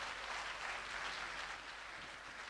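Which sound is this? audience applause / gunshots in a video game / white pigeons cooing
audience applause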